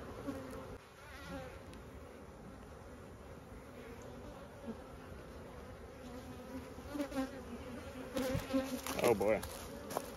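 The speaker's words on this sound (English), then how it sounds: "These bees are doing all right. They're not too mad. They could stand a little bit of smoke." Honey bees buzz steadily around a packed swarm trap during a transfer, a close continuous hum with individual bees droning past, and handling noises near the end.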